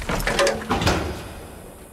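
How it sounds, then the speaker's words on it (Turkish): A door swings shut with a couple of thumping impacts in an indoor scene, fairly close, followed by a fading room tail. "Gelme kapıyı kapat!"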